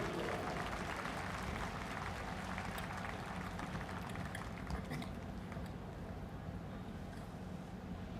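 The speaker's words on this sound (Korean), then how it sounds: "여러분 다시 한번 큰 박수로 축하해 주시고 환영해 주시기 바랍니다" Applause from a ceremony audience at an honorary doctorate conferral at Sogang University, a faint, distant wash of clapping with wind-like rumble, continuous and fairly even throughout.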